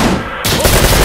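A helicopter minigun in Insurgency: Sandstorm fires a sudden, very loud continuous burst that starts abruptly partway through and keeps roaring to the end, over a loud noisy background.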